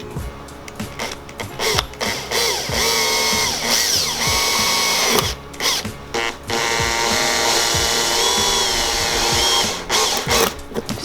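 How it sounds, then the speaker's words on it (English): A power drill bores two emblem holes in the trunk of a BMW E46. Long, loud whining runs shift in pitch, broken by short pauses and a few knocks. "I'm gonna be drilling out the 2 holes for the actual emblem"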